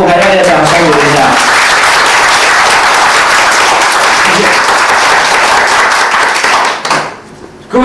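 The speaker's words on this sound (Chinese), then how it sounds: "我们再来送给这个副台长的掌声鼓一下" An audience at a speaker-training seminar gives a sustained burst of loud, dense clapping for the deputy host, close and continuous for about seven seconds before dropping off abruptly.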